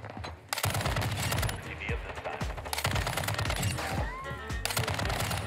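Rapid automatic gunfire in a multiplayer shooter video game, dense repeated bursts of loud shots with explosive thuds running almost continuously, close and forceful.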